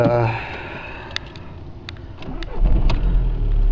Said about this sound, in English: So we'll start it up, I guess, and see how it goes.